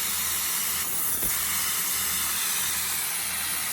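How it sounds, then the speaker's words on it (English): A continuous, steady hiss of air mist and coolant spraying onto a milling cutter, broad and even throughout, with a faint low hum underneath and a brief knock partway. "we're going to cool the cutter with a little bit of air mist and coolant mixed together"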